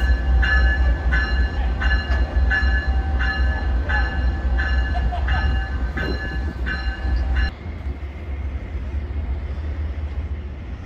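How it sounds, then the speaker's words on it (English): An Amtrak train rolls past close by with a heavy low rumble and steady rhythmic clacking of wheels on the rails, easing off toward the end. "And here is our new train. This is coming on down the track."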